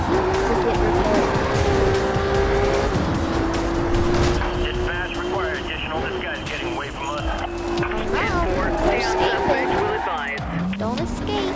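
A car engine revs steadily in the Need for Speed Rivals racing game, with shifting pitch, tire squeals and other game effects layered over it, while a person talks throughout.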